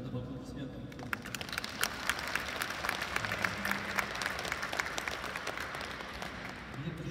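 An audience claps after a panel discussion on curators and artists, a steady patter of many hands at moderate distance with a few sharper individual claps, while faint voices murmur underneath.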